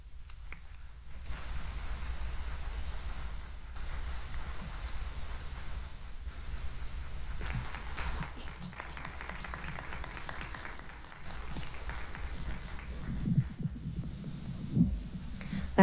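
A lecture audience at Cabrini University applauds, a faint, fairly distant patter of clapping that runs on with slight swells, growing somewhat stronger near the end.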